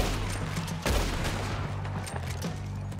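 Distant gunfire crackles in the online Western game Red Dead Online: several sharp, far-off shots scattered over a steady low musical or ambient bed, with no talking.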